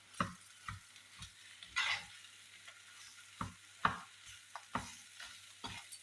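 Jackfruit seeds and egg are stirred in a frying pan, with a low sizzle and a series of sharp scraping taps from the spatula at irregular intervals, close and fairly quiet.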